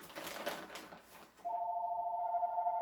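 After a stretch of rustling kitchen noise, a telephone starts ringing with a steady, continuous electronic tone, loud and close.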